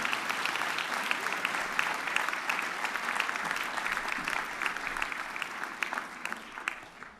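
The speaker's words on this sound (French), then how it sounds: "On l'applaudit bien fort." An audience at a French game show claps steadily for the winning champion, a dense, even patter of many hands that holds for several seconds and fades slightly at the end.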